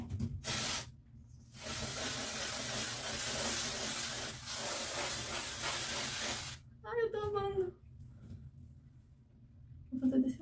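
L'Oréal pink hair colour spray hisses from the can in long, loud, close bursts with brief pauses between them, then someone talks briefly once the spraying stops.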